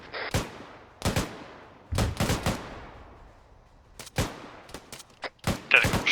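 Gunfire in Arma 3 aimed at an enemy technical: sharp, loud shots in short bursts and single cracks, spaced irregularly across the stretch with echoing decay between them.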